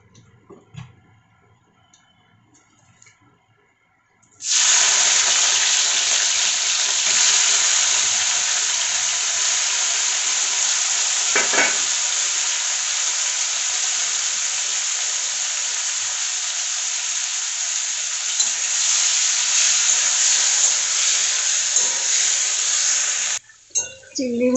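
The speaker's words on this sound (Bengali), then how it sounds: "এখানে তেল গরম হয়ে গেছে, চিংড়ি মাছগুলো এই যে ছেড়ে দিচ্ছি।" Prawns dropped into hot oil in a wok burst into a loud, steady sizzle that holds without a break after a quiet start, with faint stirring clicks and no talk.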